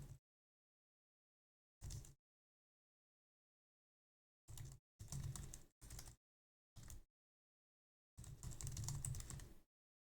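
Several separate bursts of typing on a computer keyboard, quiet and close, with short pauses between runs and a longer stretch of keystrokes near the end.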